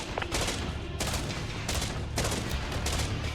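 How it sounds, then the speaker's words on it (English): Squad gunfire from a post-apocalyptic city-building strategy game, Infection Free Zone, pelting an armored personnel carrier: dense, continuous volleys of rifle shots with sharp bursts, loud and near, no talking. "against the wall here, just pelting their APC with bullets"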